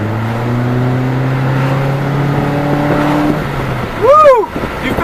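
A 2013 Mitsubishi Lancer ES engine revs and accelerates up close, a steady rising drone climbing in pitch before a sharp whooping rev near the end, with a voice speaking over it.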